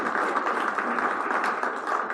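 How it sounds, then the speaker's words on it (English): Graduation ceremony audience for a class of 2021 gives a sustained round of applause, dense steady clapping filling the hall at an even level throughout. "So give yourself another round of applause."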